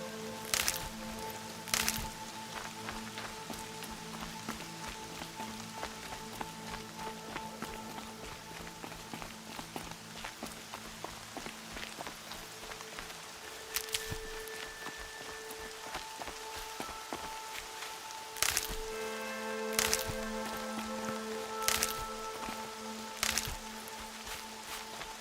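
Steady rain falls in Horizon Zero Dawn, a constant hiss spread through the whole stretch, with scattered sharp taps and bursts and sustained musical tones underneath.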